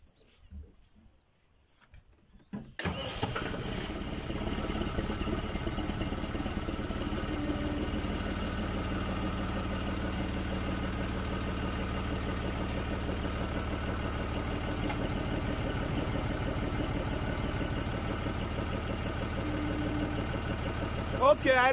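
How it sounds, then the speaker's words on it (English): A tractor engine turns over after a short quiet pause, then settles into a loud, steady idle that rumbles on close by without a break. "So let's start the tractor."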